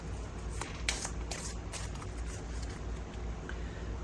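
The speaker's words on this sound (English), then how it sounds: "we need to shuffle those roll cards, the ones that we just looked at" A deck of Pandemic board game role cards gets shuffled by hand at a tabletop, giving several quick riffling bursts, soft and close, with quiet pauses between them.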